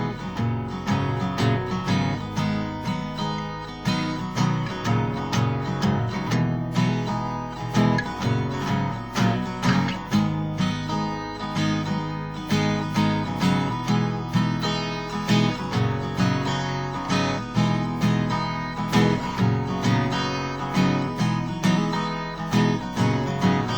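Steel-string guitar plays a riff, a steady strummed and picked pattern with rhythmic accents running continuously at moderate loudness, alone without talk.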